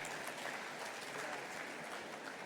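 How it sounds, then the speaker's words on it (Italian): Audience applause at an Italian company event and round-table gathering, a steady dense wash of clapping hands sustained evenly throughout, moderately loud with no voices rising above it. "Grazie Alberto, un bel applauso."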